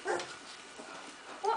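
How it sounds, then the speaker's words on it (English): A small puppy gives soft yips and whimpering barks, one near the start and another at the end, faint and close, in a quiet room. "She said Leroy would bark"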